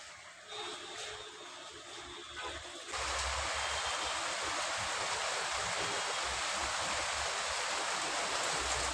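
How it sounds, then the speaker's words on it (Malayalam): Morning rain begins to fall, starting as a faint patter and then swelling after a few seconds into a steady, dense hiss of rainfall that continues unbroken. "ഇന്നതാ രാവിലെ മഴ തുടങ്ങി"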